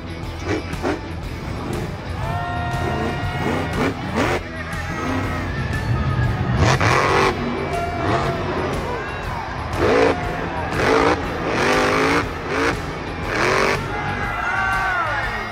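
Diecast toy monster truck Earthshaker doing a freestyle run at a tournament event, with revving, engine-like roars swelling and dropping over steady crowd-like noise throughout.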